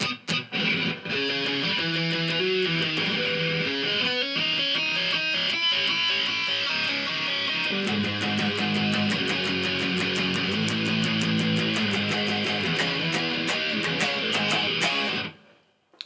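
An electric guitar through a Marshall Code 25 amp on a metal preset plays a heavily distorted, continuous riff with chugging low notes and a bright, dense tone, loud throughout and cutting off abruptly near the end.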